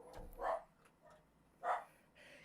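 A dog barks at an approaching thunderstorm with gusting wind, giving two separate yelping barks with a softer one between, at moderate volume against a quiet, breezy background.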